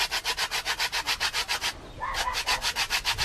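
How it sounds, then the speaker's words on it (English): Coconut flesh grated by hand on an old-style metal grater for Jamaican dukunu, about fifteen quick rhythmic rasping strokes with a brief pause midway, close and clear with no talking. "Now I'm going to grate the coconut, the nutmeg."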